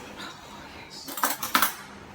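A fork stirs wet, sticky biscuit dough in a bowl, giving a quiet pause and then three or four quick metallic clinks and scrapes against the bowl, close and brief, with no speech.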